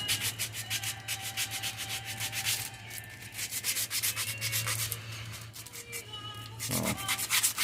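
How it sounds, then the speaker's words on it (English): Steady back-and-forth sanding strokes rasp against a wooden glide-bait fishing lure in a quick, even rhythm, close and fairly loud over a low constant hum, with a brief pause near the end. "just go to sanding until we get it where we want it."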